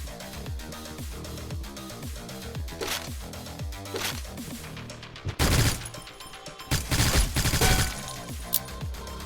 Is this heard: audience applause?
no